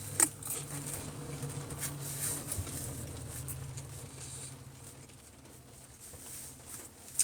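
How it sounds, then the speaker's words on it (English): Rain falls outdoors in a steady, dense patter with a few sharper drops standing out, fairly close and even throughout, with no talking. "it's raining"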